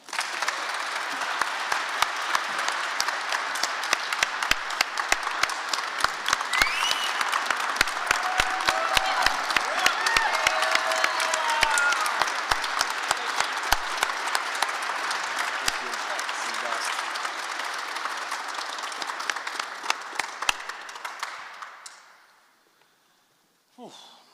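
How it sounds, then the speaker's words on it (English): An audience at a Utah volleyball press conference applauds in a sustained round of clapping for about twenty seconds before it quickly dies away to near silence. "All right, one more round of applause."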